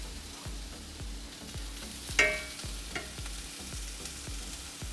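Zucchini sizzling on a hot grill with a steady soft crackle, broken by one sharp scrape or click partway through and a few fainter knocks, with no talk.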